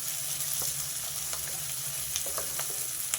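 Sliced onions frying in hot oil with bay leaf and cumin for a chicken gravy curry, a steady close sizzle with scattered light crackles and pops throughout, no talking.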